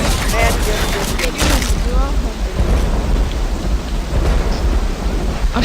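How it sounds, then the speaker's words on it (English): Rain and a rumbling thunderstorm in the Left 4 Dead 2 video game, a steady loud downpour with deep thunder rolling underneath, while players talk over the storm. "Here comes the rain."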